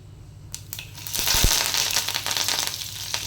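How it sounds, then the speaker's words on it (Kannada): Mustard seeds crackle and pop in hot oil as tempering begins, a dense close spatter that swells into a steady loud sizzle after a few sharp thuds. "ಎಣ್ಣೆ ಕಾಯ್ತಾ ಇದೆ. ಸೊ ಸಾಸಿವೆ,"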